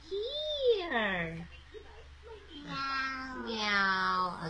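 A young child imitates a cat, giving several drawn-out, rising and falling meows in a row, close and clear in a quiet room.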